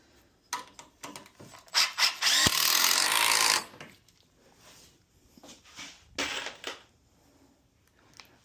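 A power drill drives screws into lumber while building a plywood-topped aquarium stand, with short bursts of motor whine, one longer sustained run in the middle, and scattered knocks and handling sounds between.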